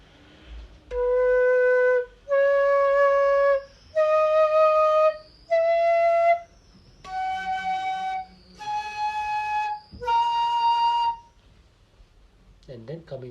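A Drangom Duen flute plays seven natural notes one after another, each a clear sustained tone separated by short pauses and stepping upward in pitch, followed by a faint brief sound at the end.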